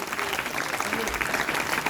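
Loud, dense applause from a crowd welcoming a team at a village Independence Day gathering, continuous clapping filling the space with a voice faintly mixed in.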